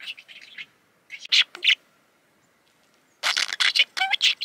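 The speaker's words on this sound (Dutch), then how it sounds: "En het geluid wat jullie horen, dat is een grasparkiet." A budgerigar chirps and chatters in quick bursts, close and fairly loud, with a short quiet gap between the bursts.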